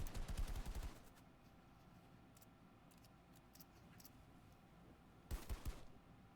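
Gunshots in a battle-royale style video game cash cup match: a loud rapid burst of shots at the start, then quiet ambience with faint ticks, and another short burst of several close shots near the end.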